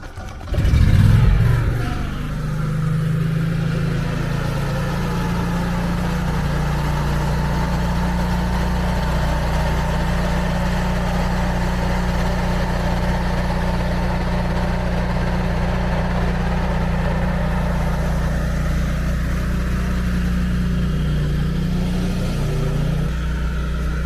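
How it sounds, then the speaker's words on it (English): A Generac air-cooled 14kW home standby generator kicks on after a power cut, with a loud start-up burst followed by a steady, close, continuous engine drone that holds for about twenty seconds without talk. "The generator is gonna start after 5 seconds."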